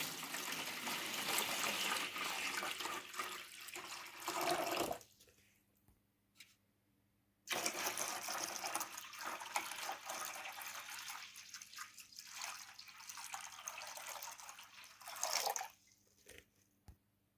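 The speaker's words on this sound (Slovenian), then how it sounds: "v posodo nalijemo vodo" Water poured into a container for a pond-liner streambed pump test, a steady close splashing gush that stops briefly midway, then resumes and trails off into softer trickles.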